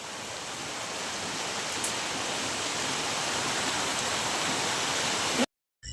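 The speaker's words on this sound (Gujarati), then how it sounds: "ત્યાં તો વરસાદ આવી ગયો છે" Steady rain falls across an open farm field, a dense even hiss holding at constant loudness for several seconds before cutting off abruptly near the end.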